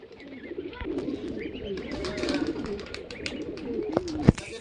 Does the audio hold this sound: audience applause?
no